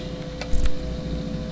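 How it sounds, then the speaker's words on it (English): A small electric fan runs beside a hot Arduino-based chicken coop door controller, giving a steady broadband whir with a low hum throughout and a couple of faint clicks near the middle. "I actually have a little fan running in the background"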